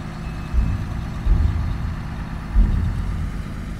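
A container truck's diesel engine idling nearby, a loud low rumble with periodic heavier surges and a thin high tone faintly present early on.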